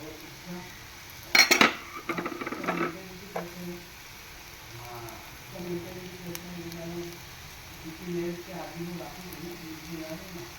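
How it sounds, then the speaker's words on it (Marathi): A burst of metal utensil clatter against a pan as cooked raw bananas are stirred into tempering, followed by softer scraping and stirring sounds, with quiet voices murmuring in the background. "हे मस्त पैकी त्या फोडणीमध्ये घोळवून घ्यायचे आहेत आपल्याला छान असे"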